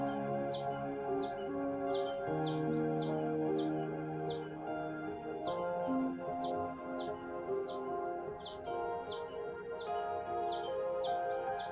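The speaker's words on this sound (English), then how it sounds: "you'll hear the squeaky sounds of this young American goldfinch begging to be fed" A young American goldfinch gives repeated high, squeaky begging chirps to its parent for food, in bursts of short calls throughout, close and fairly clear over a layered background of other steady tones.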